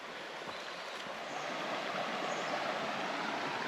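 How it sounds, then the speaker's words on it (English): A creek along the trail to Fall Creek Falls flows in a steady broadband rush, moderately close and unbroken, growing slightly fuller after the first second and a half, with no voices. "The good portion of this hike is going to be along this creek side here. It's a beautiful creek."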